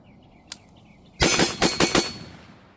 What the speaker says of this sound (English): I'm just trying to give you guys a demonstration of the recoil of this gun and exactly how it shoots.